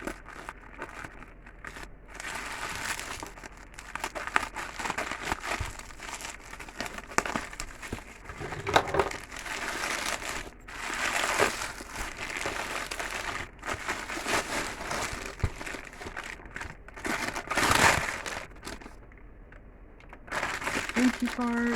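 A heavily taped mail package is wrestled open with repeated crinkling, crackling and tearing of plastic and tape in irregular bursts, while a person talks intermittently throughout.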